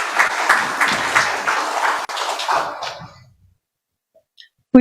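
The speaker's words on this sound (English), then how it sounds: "request all of you to join us with a round of applause for our audience, speakers, sponsors, friends from media" Conference audience applauding at an opening session, a full round of clapping that tapers off after about three seconds into silence.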